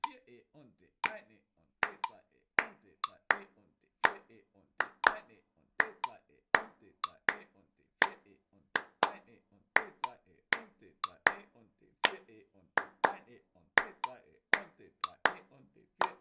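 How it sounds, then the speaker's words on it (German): Hands clap out a sixteenth-note drum rhythm, a crisp, close series of sharp claps in steady grouped patterns, with a voice counting along beneath them. "Geklatscht klingt dieser Rhythmus wie folgt."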